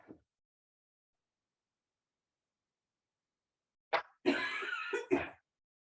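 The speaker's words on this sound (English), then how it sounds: "I might cough my way through class." One faint short cough at the very start, then after a long silence a burst of two or three loud, harsh coughs close to the microphone during a yoga class.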